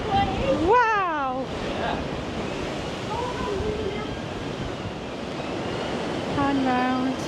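Rough sea surf and strong gusting wind roar steadily at a seaside pier, loud broadband rush with wind buffeting the microphone, while people exclaim and whistle over it.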